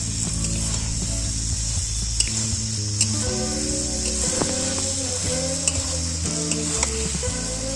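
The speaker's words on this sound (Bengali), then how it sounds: "এই যে আলু পটল দিয়ে মশলাটা কত সুন্দরভাবে কষানো হয়ে গেছে" Spice paste with potato and pointed gourd sizzles steadily in a pan, with repeated utensil clinks and scraping as it is stirred, loud and close.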